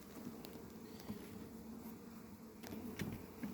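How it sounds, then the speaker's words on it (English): Honeybees crowd a busy hive with a few wasps among them, making a steady, close buzzing hum that swells slightly near the end, with no voices. "obviously lots more bees than there are wasps"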